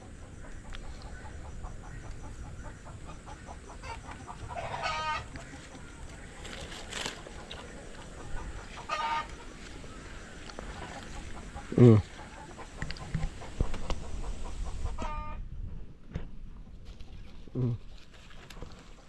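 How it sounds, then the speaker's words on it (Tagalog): A chicken clucks and squawks sharply in a few brief, agitated bursts over steady outdoor background noise, the loudest outburst near the middle, with a faint voice at moments. "Gagalit yung manok natin"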